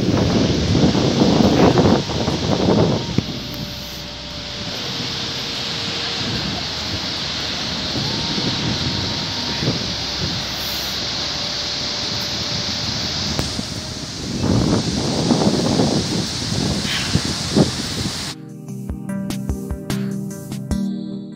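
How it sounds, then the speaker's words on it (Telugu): Skógafoss waterfall in Iceland roars as a loud, continuous broadband rush heard from nearby, mixed with wind buffeting the microphone; the sound runs steadily throughout before cutting off near the end. "ఇప్పుడు వచ్చేసి వాటర్ ఫాల్ సౌండ్ వినిపిస్తాను"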